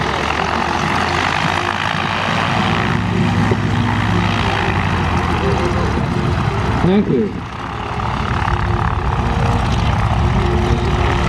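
Continental seven-cylinder radial engines on Stearman, WACO and Travel Air biplanes at an airfield fly-in, a loud steady propeller drone throughout with a brief dip midway and a short spoken remark over it.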